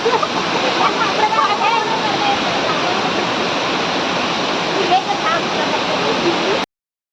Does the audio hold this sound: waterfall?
yes